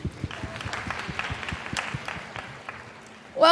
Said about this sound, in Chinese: 加油加油，掌声鼓励